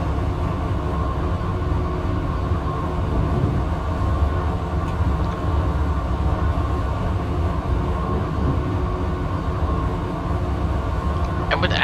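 A train in Train Simulator 2021 on the New York City route with the Acela Express rumbles steadily for the whole stretch, a loud continuous low drone with faint clicks near the end.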